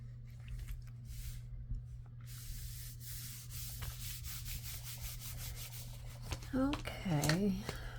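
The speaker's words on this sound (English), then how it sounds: "Trying to glue my flap together over here." A paper file folder flap is rubbed to press glue down, giving soft, close brushing strokes that end in a few squeaky swipes.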